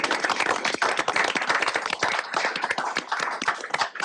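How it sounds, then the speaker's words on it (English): Attendees at a board of commissioners' meeting clap together, a dense, steady patter of many hands filling the room and sustained evenly for several seconds. "We ought to be clapping for sure."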